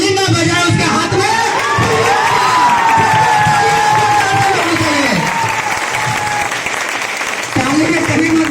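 Loud audience clapping with cheers and whoops from a large, lively crowd, continuous for several seconds while shouting voices and tonal calls rise over the applause.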